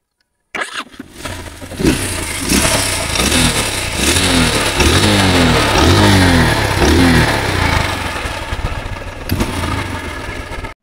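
A Honda CB Hornet 160 motorcycle starts up close and loud, then is revved in several rising and falling bursts before settling back toward a rough idle.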